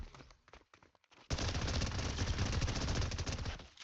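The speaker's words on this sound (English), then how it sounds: "Rapid fire SMG." Rapid-fire SMG in the Fortnite video game, a few scattered shots at first, then a dense, loud continuous burst of automatic fire lasting over two seconds, heard alone.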